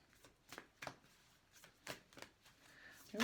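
Tarot cards are shuffled close up in a quiet room, a series of soft, uneven riffles and slaps in irregular bursts, ending in a sharper, louder flutter.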